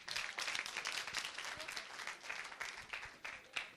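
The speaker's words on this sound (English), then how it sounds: "First of all, clap for yourselves." An audience claps for itself in a classroom setting, a dense burst of applause that holds steady for several seconds with a few sharper claps standing out near the end.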